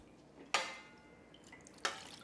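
Goat milk curds and whey for homemade feta poured into a strainer: two quiet, separate wet splashes with short dripping tails, spaced more than a second apart in a still, close room.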